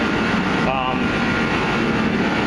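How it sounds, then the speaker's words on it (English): A heater blows a constant, broad whooshing hum throughout, steady and fairly loud, with a brief tonal whine early on and no clear talk. "Sorry about the heater noise in the background"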